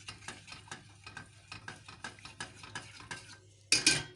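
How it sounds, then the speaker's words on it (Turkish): A spoon stirs a cup of milk mixture in a pot for mosaic cake, making a steady rhythmic series of soft scrapes and clinks against the metal. A louder clatter comes at the end. "Bir su bardağı kadar sütümüzü koyduk. Bir su bardağı mı ustacığım? Evet abicim bir su bardağı. Karıştırmaya devam."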